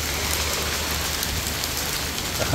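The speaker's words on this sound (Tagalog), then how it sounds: "Ang lakas ng ulan." Heavy rain pours steadily on a street in Singapore where water is already flooding, a dense, constant hiss of drops close by with a low rumble underneath and no voices.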